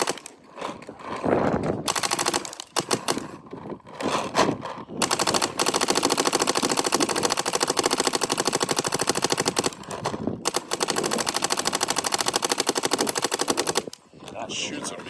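A DLX Luxe Idol paintball gun firing in long rapid bursts, a dense close rattle of shots broken by short pauses, with voices talking in brief gaps.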